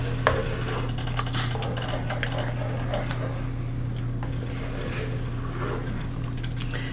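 A spoon scraping and knocking slowly around a pan of thickening creamy soup made from dry mix, scattered clinks and rubs over a constant low hum.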